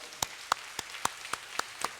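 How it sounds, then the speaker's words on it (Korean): A church congregation at Sunday worship clapping in unison, with seven sharp, evenly spaced claps in a quick, faint, steady rhythm. "우리 하나님께 감사와 영광의 박수 올려드리겠습니다"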